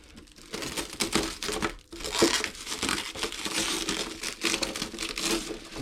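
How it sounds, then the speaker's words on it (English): Protective film is peeled off an Arrma Senton 3s RC car body, giving close, loud crinkling and crackling in continuous bursts with no voices. "So let's peel this off and we'll put underneath."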